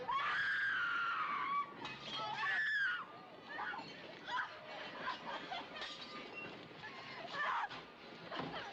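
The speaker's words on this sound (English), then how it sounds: "I'm not a fan of the women screaming in this." Women scream in a classic Doctor Who episode, shrill rising cries over dialogue and background noise, loud and repeated through the scene.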